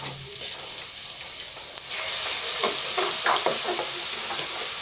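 Spoonful of garlic dropped into hot ghee in a pan while cooking dal chana with pumpkin: a steady, hissing sizzle that swells midway, with faint stirring clinks and no talking.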